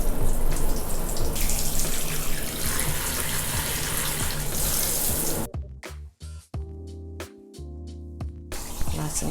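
A tap runs while plant roots are washed under it, a close splashing flow that breaks into intermittent spurts and drips as the roots move through the stream, then resumes steadily.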